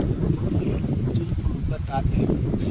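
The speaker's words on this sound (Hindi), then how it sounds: "बहुत अच्छा हवा चल रहा है" Wind buffets the microphone during a long bike ride, a rough, gusty rumble that stays loud and steady throughout while someone talks over it.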